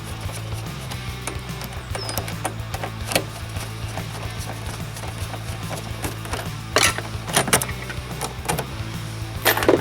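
Bolts are unscrewed on the carburettors of a Suzuki RF 900 motorcycle: close metallic ratcheting and tool clicks, scattered taps and knocks, with a low steady hum beneath.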